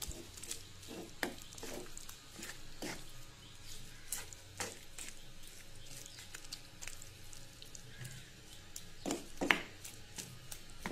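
Beef kala bhuna stirred in a pan, quiet scraping and squishing strokes at an irregular rhythm, with a few sharper clinks of the spoon against the pan.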